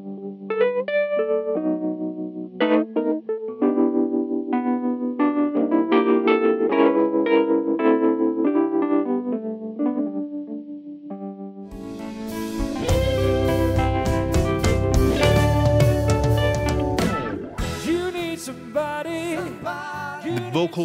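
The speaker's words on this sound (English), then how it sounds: "We are miking up the Wurlitzer on the guitar cabinet," A Wurlitzer electric piano plays through a guitar cabinet picked up by a condenser mic set slightly off-center toward the speaker edge, first sparse chords with chorus-like wobble, then a denser, louder, distorted passage with a fuller band.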